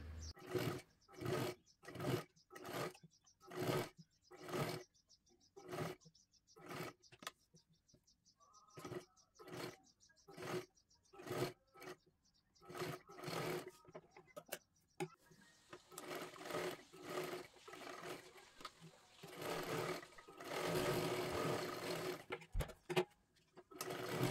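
A sewing machine double-stitches lace onto a blouse in repeated short bursts of rapid stitching separated by brief pauses, with a denser, longer run near the end.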